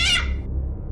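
A short, harsh cat screech, sharp and bright at first, then quickly fading out.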